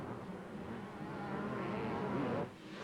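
A Yamaha 125 motocross motorcycle engine at a 1992 motocross race in Australia drones steadily and rises in pitch as it accelerates, then cuts off abruptly near the end.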